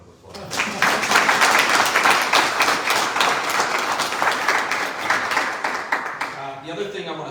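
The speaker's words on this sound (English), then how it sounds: "So why don't we give them a round of applause?" Audience at a gallery talk breaks into applause, a burst of dense clapping that starts quickly, holds for several seconds and tapers off, with a voice coming back in near the end.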